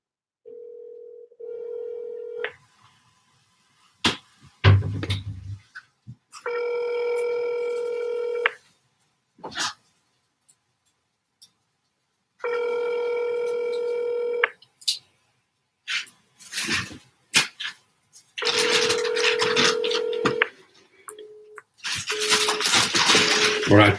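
A telephone call being placed: bursts of steady dial tone and sequences of short keypad dialing beeps alternate with pauses, ending in repeated ringing-like tones, all close and clear.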